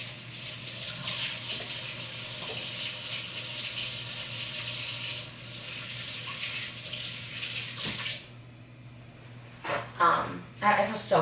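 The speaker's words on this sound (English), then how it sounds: "Let me wash my hands real quick." A tap runs steadily as hands are washed under it, a close, even rush of water for about eight seconds that then cuts off, followed by a few small clatters and knocks.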